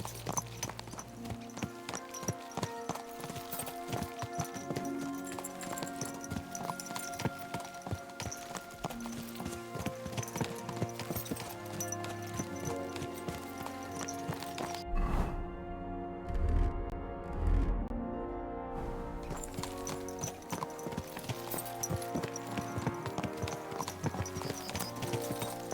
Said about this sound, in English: Let's really spur these horses on,